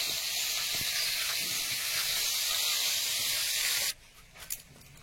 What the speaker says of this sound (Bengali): ওইদিকে মাছ ভাজা হচ্ছে